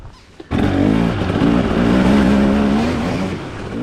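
A KTM-style 300XC two-stroke dirt bike engine fires up after a brief quiet moment and holds a loud, steady, buzzing rev close by, easing slightly toward the end.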